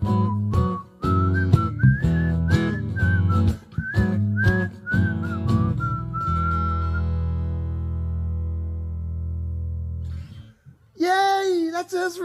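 A person whistles a cheerful song tune, clear and close, with steady melodic phrases that hold a long final note before a brief pause and a short return.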